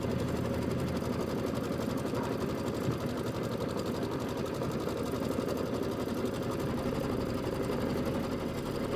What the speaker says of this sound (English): last thing it's going to do is it's going to do an outline stitch